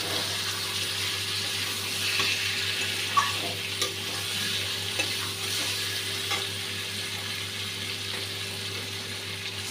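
Potatoes and vegetable stems fry in a pan of spice paste, giving a steady close sizzle with occasional scrapes and stirs, and no talking.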